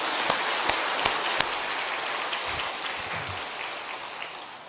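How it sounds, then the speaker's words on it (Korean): A church congregation at a Sunday morning service claps together in a steady patter of applause, loud at first and slowly thinning out, with no voices over it. "우리 하나님께 감사의 박수 한번 보냅시다"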